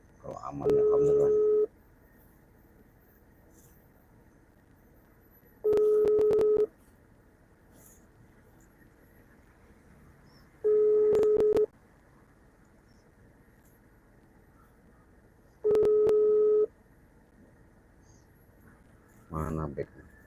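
Repeated telephone ringback tones on an outgoing call, four evenly spaced tone bursts about five seconds apart over a quiet line hiss, ending in a brief fifth burst.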